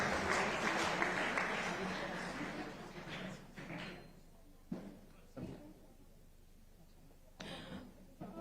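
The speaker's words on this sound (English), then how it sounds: "may we once again extend a warm round of applause to all our distinguished dignitaries present in the hall" Dense crowd applause for dignitaries in a conference hall at an international Commonwealth peace mediation and rule of law conference in Jaipur, loud at first, then fading out over a few seconds into a quieter room with scattered thumps.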